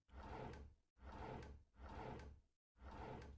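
Wooden drawers sliding open in a Roblox game, three sustained scraping slides in a row with short gaps, loud and close, with no talking.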